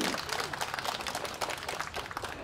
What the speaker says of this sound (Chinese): 是不是要请大家来一个热情的掌声呢？